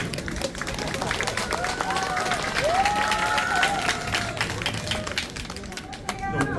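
A large crowd of elderly people at a Senior Citizens' Day ceremony in a sports stadium applauds loudly, sharp claps rising into a dense sustained roll with cheering and voices mingled through it.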